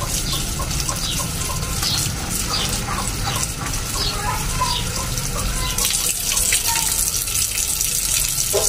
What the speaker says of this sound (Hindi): देचकी को भी अच्छी तरह धो लेते हैं, और साथ में जो है ना हमारे देसी टिंडे जो है ना वो भी धो लेते हैं।